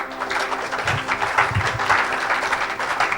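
A church congregation applauding to acclaim Jesus, a steady patter of many hands clapping at moderate loudness for a few seconds.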